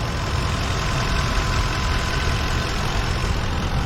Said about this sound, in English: this is a very reliable engine, very smooth running too, as you can hear